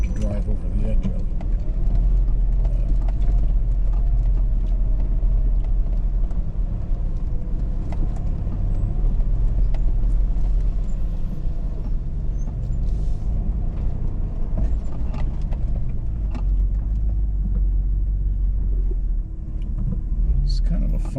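A 2025 Hummer H2 crawls a rocky off-road trail at Cameo Cliffs in Moab, its engine a steady low rumble throughout with scattered knocks and creaks from the rocks, while someone speaks over it.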